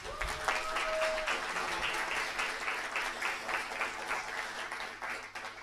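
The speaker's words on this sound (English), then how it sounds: "give the PhillyCAM staff a big round of applause" A live audience at a community media member meeting gives the staff a sustained round of applause, steady dense clapping filling the room, with a few brief voices near the start.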